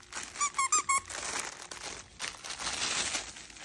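A plush Halloween toy with crinkly filling squeezed up close: four quick squeaky crinkles in a row, followed by softer rustling and handling of the toy.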